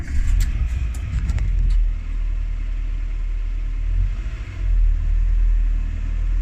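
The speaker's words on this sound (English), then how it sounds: "If I just start the car" A Renault Twingo's engine cranks and catches, then settles into a steady low idle rumble, heard close and alone with no talk.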